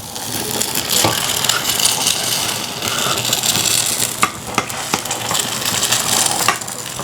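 An egg fries in hot oil in a pan for a tomato egg dish, a dense steady sizzle close by, with a few sharp clinks and scrapes from stirring scattered through it.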